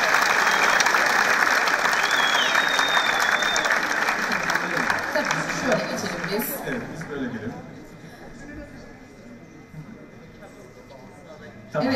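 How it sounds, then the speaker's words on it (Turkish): An audience at a teachers' singing contest final in Van, Turkey, applauds loudly. The dense clapping gradually thins and fades over about twelve seconds, with some crowd noise and a faint tone early on. "Böyle öğretmen arkadaşlarımız için kocaman bir alkış alabilir miyiz?"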